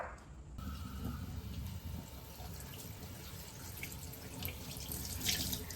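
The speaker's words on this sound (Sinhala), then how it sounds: "මෙන්න බලන්න මං ඒක වතුර එකකට අල්ලලා හොඳට මිරිකනවා." Water runs from a tap into a sink as an item is held under it and squeezed, a steady close splashing flow with faint drips and sloshes.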